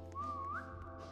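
A person whistles a single short, rising tone for about half a second, soft and close over a faint steady hum.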